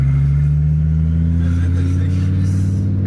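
A rare Japanese car with a twin-turbo V6 idles and revs loudly through its exhaust, a deep steady drone close by, while people talk over it.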